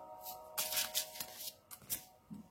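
Oracle cards shuffled by hand in a divination reading, a quick run of crisp papery riffles and flicks in close bursts, then a soft tap as a card is drawn, with no voices.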